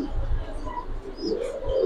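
Pigeons cooing at a pigeon farm, soft low throaty coos repeating close by over two seconds, with a voice talking over them.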